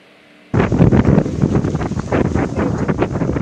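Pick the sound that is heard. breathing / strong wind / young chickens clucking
strong wind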